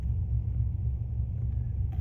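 A car cruises on the road after a Seafoam Trans Tune transmission treatment: an even, moderately quiet low rumble of engine and tyres that continues without a break.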